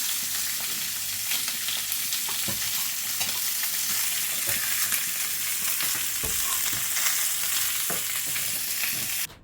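Steady loud sizzling of veal searing in a hot pot, with occasional clinks and scrapes of stirring, no voices.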